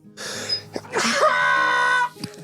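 A single sneeze with a sharp intake of breath first, then a burst of voiced exhale, close and fairly loud.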